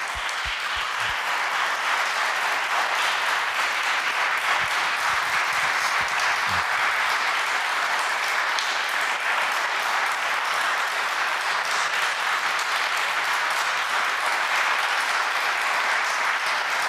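A live audience at a reading of classic Latin authors breaks into sustained, dense applause, many hands clapping steadily and evenly for the full stretch at moderate loudness, with no talk over it.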